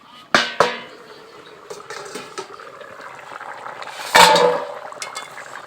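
A home-style village koi fish curry is stirred in a pot, with a couple of sharp metallic clinks from the spoon, a louder clatter later on and a soft bubbling simmer in between. No one speaks.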